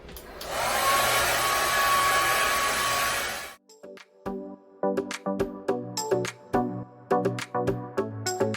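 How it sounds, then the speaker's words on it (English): Hair dryer blowing loudly and steadily for about three seconds, then cutting off abruptly, followed by a series of short clattering knocks and taps. "So we'll get our hair dryer out."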